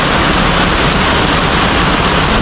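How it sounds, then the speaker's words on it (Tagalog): Heavy typhoon rain pours down in a dense, unbroken roar, loud and close, steady from start to finish with no voices. "Ito na yung ulan."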